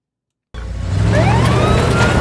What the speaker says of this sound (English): I don't know why he took off in the siren